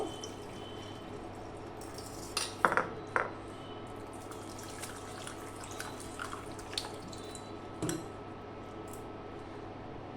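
Rice rinsed by hand in a bowl of water while cooking a mango dessert: a few soft splashes and drips, with a small cluster early on and one more later, quiet and close.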